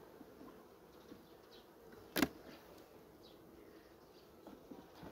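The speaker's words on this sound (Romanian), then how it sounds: "Ce mă interesează este prezența albine." Honeybees buzzing at a hive on a mild day, a soft continuous hum of many bees heard close but faint, with one louder click or knock partway through and no talk.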